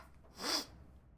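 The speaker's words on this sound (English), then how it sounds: "I sneeze." A single quiet sneeze, a short sharp burst of breathy noise with nothing else around it.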